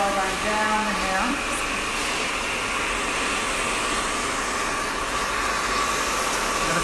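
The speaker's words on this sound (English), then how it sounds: "Lots of heat, lots of speed, and I'm going to apply the hair dryer down the hair." A handheld hair dryer fitted with a nozzle blows on high heat and speed during a short haircut styling session, a loud, steady airy roar that continues unbroken throughout.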